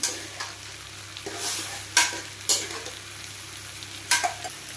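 Boiled potatoes and peas tipped into a hot pan for a potato curry to go with chapati, then stirred: a steady oily sizzle broken by several sharp scraping stir strokes, with no talking.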